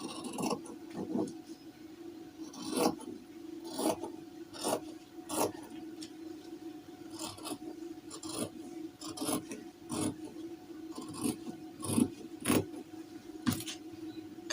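Fabric being cut along the armhole of a bell sleeve, heard as a run of short rasping snips, close and fairly quiet, repeating in an uneven rhythm.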